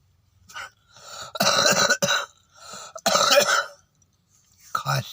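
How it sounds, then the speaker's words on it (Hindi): A person coughs and clears their throat in several harsh, close bursts separated by short pauses, loud and raspy. "खांसी उठी है भाई"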